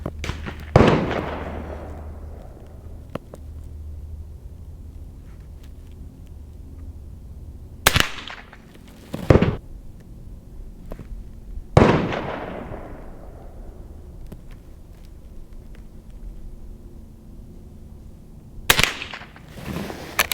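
Marlin 39A rifle firing: four sharp, loud reports spaced several seconds apart outdoors, each with a short decaying tail and quiet background between shots.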